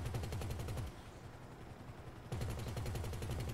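Rapid, evenly spaced machine-gun bursts come from a powerful helicopter in GTA 5, pausing briefly midway before firing again, fairly faint and with no voices.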